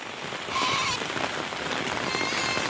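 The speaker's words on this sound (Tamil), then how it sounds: "மழை மழை சரியான மழை." Heavy rain pours down in a steady, dense hiss that grows louder about half a second in and then holds at full strength with no voices.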